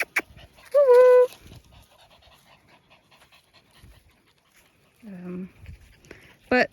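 A high-energy dog gives two sharp whimpers with panting between them, close and fairly loud, separated by quieter shuffling.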